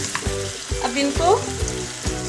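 Karahi kababs in masala sizzle loudly in a pan while a spoon stirs them, with steady frying crackle and rhythmic scraping strokes close up.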